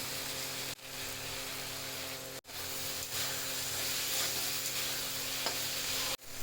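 Turmeric and spices fry in a pan while being stirred, making a continuous loud sizzle and hiss with brief breaks, close up and without talk.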